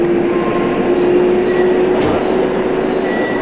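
A New York City Transit BMT L train on the 14th Street line toward Rockaway Parkway runs in the OpenBVE train simulator game, a loud, steady rumble with a sustained motor whine and a brief squeal.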